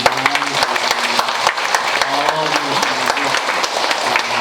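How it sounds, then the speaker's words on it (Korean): A church congregation claps for a visiting deaconess from the Philippines, a loud, close burst of many hands, while a voice talks over the applause and low hum runs underneath. "한번 박수 한번 해주세요"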